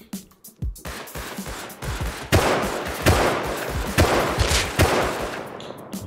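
Rapid gunfire in the survival video game Rust during a raid, loud bursts of shots fired in quick succession with echoing booms, close and dense through most of the stretch.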